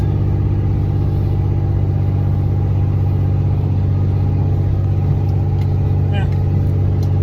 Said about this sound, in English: It's making the truck work anyway.